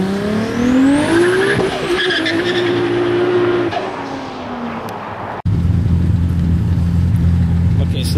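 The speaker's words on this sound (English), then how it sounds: "Nice rolling burnout." A turbocharged drag car with aftermarket fuel injection does a rolling burnout, its engine revving hard with rising pitch under sustained loud tire squeal, then cutting abruptly to a lower steady roar as it moves off.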